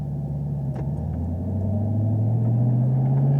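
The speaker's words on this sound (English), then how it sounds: "You can hear more of the supercharger whine than anything" A supercharged Camaro ZL1 engine rumbles and builds as it accelerates, with a rising supercharger whine climbing steadily over the low drone.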